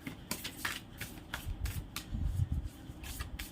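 Oracle cards being shuffled and drawn, with a steady run of soft papery riffles and flicks close by, mixed with low handling rustle and no talk.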